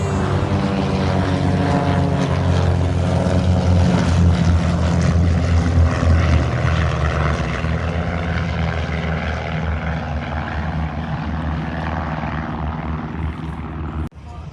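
A propeller airplane landing at an air show gives a loud, steady droning engine hum with a pulsing propeller beat, holding strong and then easing slightly as it passes. A brief thump comes near the end.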